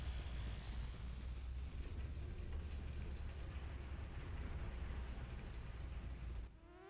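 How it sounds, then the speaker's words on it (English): Explosion on a base in the video game Front Mission 3, a quiet, sustained rumbling roar with crackling debris that cuts off sharply near the end. "Accidental explosion on the base."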